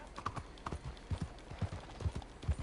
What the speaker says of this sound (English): This horse is super slow.